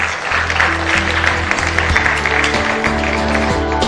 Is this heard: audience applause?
yes